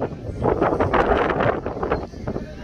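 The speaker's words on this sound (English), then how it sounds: "It's super windy out here" Steady wind buffeting the microphone outdoors on a boat near an island in Miami, a broad continuous rush with gusty swells throughout.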